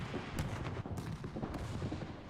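A tank destroyer's gun fires in a tank video game, giving several muffled, fairly distant booming shots spaced about half a second apart, fairly quiet.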